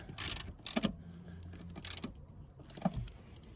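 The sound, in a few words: tightening Subaru rear seat bolts with a ratchet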